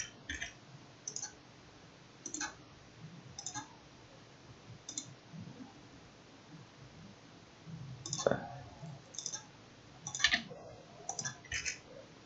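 Computer mouse clicks while working in LTspice circuit simulation software, sharp isolated taps scattered irregularly through the clip, often in quick pairs, under someone speaking quietly.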